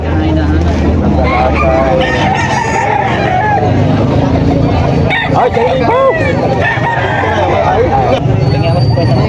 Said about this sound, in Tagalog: Maganda yung mga manok na yan, no?